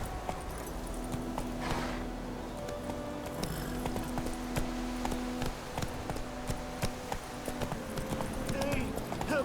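Roach, the horse in The Witcher 3, galloping in a quick pattern of hoofbeats under a continuous low rumble, while game characters talk and shout over it.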